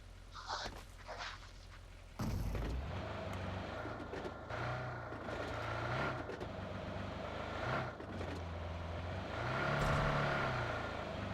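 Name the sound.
vehicle engine driving in video game BGMI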